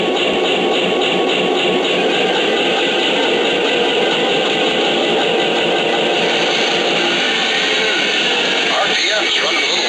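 Lionel Santa Fe F7 model locomotive with a B unit runs its engine sound sequence, a steady mid-pitched diesel drone held throughout, with voice-like radio dialogue chatter layered on top.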